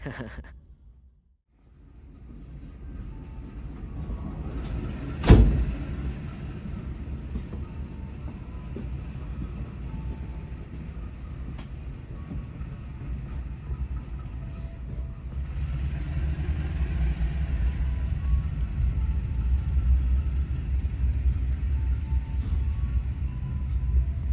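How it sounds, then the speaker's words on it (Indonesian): A train locomotive engine drones steadily and heavily for a long stretch as it climbs uphill, with rumbling wheels and a sharp clank partway through, growing slightly louder later. "Suara deru lokomotif suka ngeden."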